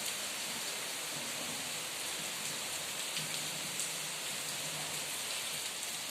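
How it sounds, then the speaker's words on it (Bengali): Heavy rain pouring down steadily in a dense, even hiss, constant and fairly close throughout with no break. "তারপরে যে হঠাৎ করে এত ঝুম বৃষ্টি, এরকম বৃষ্টি খুব কমই হয়"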